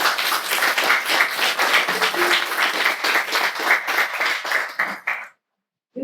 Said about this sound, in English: So I would say a clap for that.